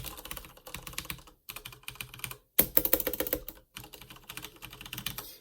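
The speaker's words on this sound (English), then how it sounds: "I'll basically do a sound test if you guys want to hear it." Close, crisp typing on a Corsair K63 wireless keyboard comes in quick clattering bursts of keystrokes separated by short pauses.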